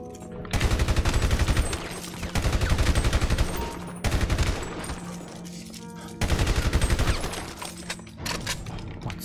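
Sustained automatic gunfire in a GTA 5 zombie mod, several long rapid bursts of loud shots separated by short pauses, close and dominant throughout.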